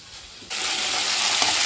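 Ivy gourd pieces hit hot oil in a pan, and a steady close sizzle of frying jumps up sharply about halfway through and holds loud to the end, with a brief stir scrape near the finish.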